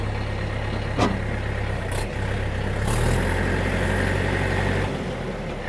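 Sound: tractor engine running, gearbox test

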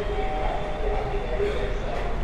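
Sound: train ride in India

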